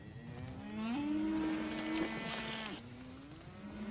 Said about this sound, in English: Those your cattle grazing over there?